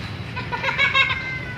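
A single drawn-out meow from a nearly blind cat, close and fairly loud, rises and falls over about a second against a faint background hum.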